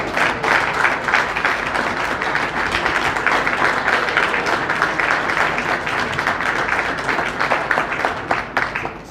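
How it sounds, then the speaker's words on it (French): A congress audience applauding a minister's birthday at the closing of a pan-African congress, with dense, sustained clapping from a large crowd, loud and steady throughout, with faint voices mixed in. "il m'a dit que les applaudissements ne sont pas suffisants"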